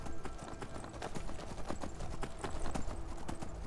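Horse hooves clip-clop steadily at a riding pace in Skyrim, close and continuous, with faint ambient game sound and no talking.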